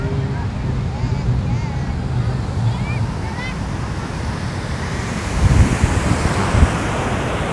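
Surf rolls onto Ketawang beach in Purworejo during a kite festival, a steady roar of waves under gusty wind buffeting the microphone, with a faint engine drone and distant voices.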